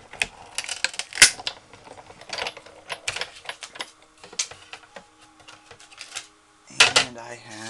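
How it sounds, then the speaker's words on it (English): A manual die cutting machine feeds paper through a cutting sandwich for card making, giving bursts of rapid mechanical clicking and ratcheting with short pauses and a louder, busier stretch near the end. "Just a regular cutting sandwich, whatever you use for your die cutting machine."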